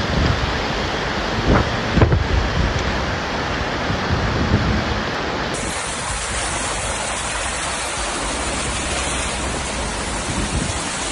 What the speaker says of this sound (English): videos of large waves lifting stationary vehicles at Gordons Bay